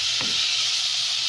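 Pork fries in a pan for a ginataang monggo dish, giving a steady loud sizzle throughout, with a brief scrape of stirring near the start.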